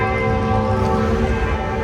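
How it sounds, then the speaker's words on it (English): Church bells ringing nearby in Amsterdam, a steady, loud, sustained peal with overlapping tones and no talking. "You can hear the bells now ringing nearby."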